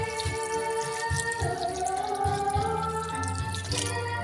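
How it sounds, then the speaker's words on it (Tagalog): Water poured into a pot of spicy halang-halang chili chicken as it cooks, a light splashing and dripping trickle running steadily under a background of tonal music with a few soft low thumps. "lagyan na natin siya ng tubig"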